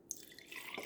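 Coffee pours into a tall mug, a thin, trickling stream of liquid that rises slightly in pitch as the mug fills, close and quiet with no talking.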